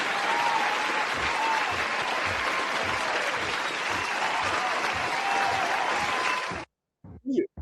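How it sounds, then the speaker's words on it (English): An audience applauds a guest in a steady, dense wash of clapping that holds for several seconds, then cuts off abruptly, followed by a few brief voice sounds. "can we have a nice round of applause for our guest in the building?"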